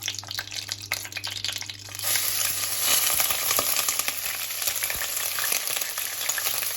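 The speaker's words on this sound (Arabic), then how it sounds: "البصل بتاعنا عند فيه ميه كتيره للاسف فبيعمل الفرفشه دي" A medium onion hits three or four spoonfuls of hot oil in a pan on a gas stove, its high water content making a loud, steady crackling sizzle that swells after a quieter start and continues with stirring scrapes.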